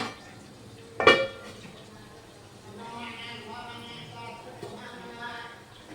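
A lid is set onto a cooking pot of fish and vegetables on the stove, one sharp metallic clank followed by soft bubbling, while someone talks over the kitchen sounds.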